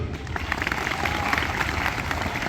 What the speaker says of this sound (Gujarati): એમના નામને પહેલાં તો આપણે તાળીઓથી વધાવીએ